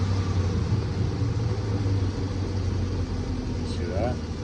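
A Hemi car engine idles with a steady low rumble, close and continuous. A voice speaks briefly over it near the end.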